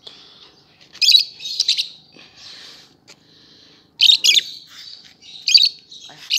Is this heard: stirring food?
no